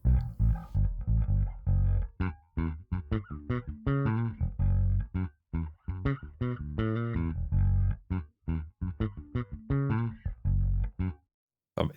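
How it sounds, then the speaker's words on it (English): Bass guitar line played through a reverb effect for an ambience demo, a steady run of plucked notes with a trailing wash, alone and upfront. "Now bass, we can put reverb on."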